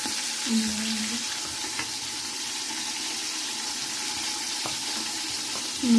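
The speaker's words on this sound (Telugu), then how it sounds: "పుదీనాకు కొత్తిమీర ఇవి కూడా వేసి వేగనిస్తాను కాసేపు" Coriander and mint leaves frying in a pan for biryani, a steady close sizzle running throughout with a brief louder hiss near the end.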